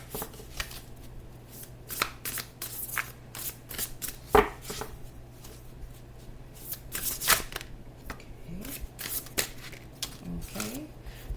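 Tarot cards being shuffled by hand, a soft papery riffling and sliding in repeated bursts close up, with a steady low hum underneath.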